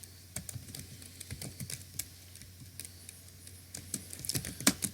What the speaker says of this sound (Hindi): तो जब मैं टाइप करूंगा